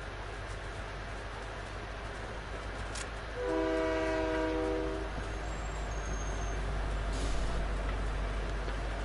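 A train in the video game Fortnite rumbles close by under a constant heavy roar, and its horn sounds one sustained harmonic blast in the middle, with no talking.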